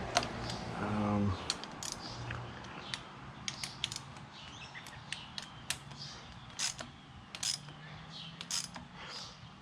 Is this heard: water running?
no